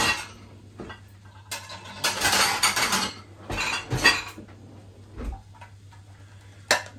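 Plates and pans being handled in a kitchen while a grill is cleaned, with scattered clinks and clatters in irregular bursts, a few louder knocks among quieter rattling and no talk.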